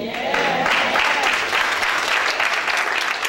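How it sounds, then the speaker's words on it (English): A church congregation at a gospel ministry service claps for the ushers, loud sustained applause from many hands filling the room, with a voice speaking briefly at the start before the clapping swells and holds steady. "good clap and give him the praise for us."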